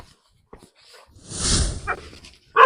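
A dog in a Punjab village near the India-Pakistan border gives a loud, close bark after a few faint snuffling sounds, followed by another sharp burst.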